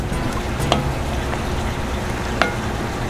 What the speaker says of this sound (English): Get all stirred in real good.